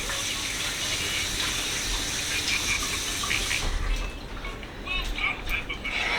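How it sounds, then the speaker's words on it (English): Running tap water gushes steadily as hands are rinsed under it, close and loud. The flow lightens near the end into splashes and drips. "Rinse off my hands real quick so I can touch everything else"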